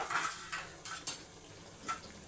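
Liver frying with pepper, cumin and salt over a low flame is stirred with a few soft spoon scrapes and clinks against the pan over a faint, steady sizzle, close but quiet, without talking.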